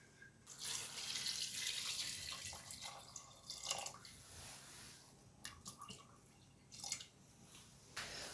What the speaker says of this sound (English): So now I want to add some water and then we boil.